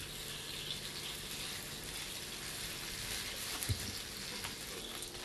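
Tuna searing in a very hot pan, a faint steady sizzle with a few small clicks and knocks, heard without talking.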